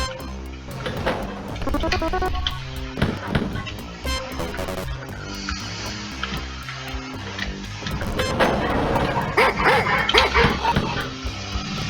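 Dogs barking and yipping in Wolfenstein 3D, short repeated barks over a busy, continuous layer of game music and effects, fairly loud throughout.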